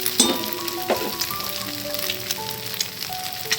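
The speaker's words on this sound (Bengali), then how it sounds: "পেঁয়াজটা যে খুব বেশি ভাজতে হবে তা না।" Onions fry in a pan with a soft, continuous sizzle, a few louder pops and crackles over a low bubbling hiss, close and fairly quiet.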